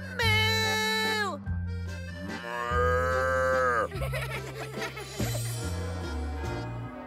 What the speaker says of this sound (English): Look at that tiny cow down there!